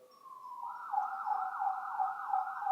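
Ambulance siren wailing in a steady rising and falling tone, clear and alone with a quiet background, sounding like a recording played back in a lecture hall.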